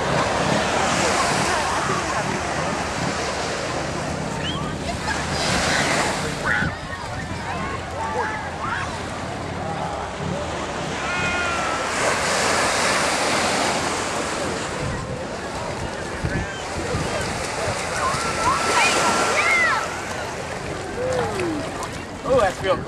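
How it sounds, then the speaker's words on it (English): Evening surf rolling onto Malibu Beach in California, a steady wash of breaking waves with wind buffeting the microphone and people talking nearby throughout. "now on Malibu Beach in the evening"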